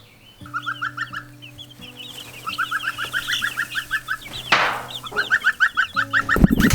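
Many chicks cluck and peep together in a busy chorus, with a low steady hum running underneath and a brief rustle near the end.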